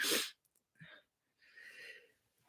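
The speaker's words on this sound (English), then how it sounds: "I'm going to end up sneezing." A single sharp sneeze bursts out up close, followed by a short breathy sniff and a softer exhale.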